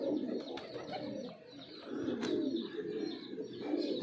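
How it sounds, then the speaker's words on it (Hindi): Pigeons coo steadily close by in a loft, with a low continuous burble and occasional faint chirps and clicks over the top. "कुछ कबूतर इसमें भी हमने नए छोड़े हुए हैं।"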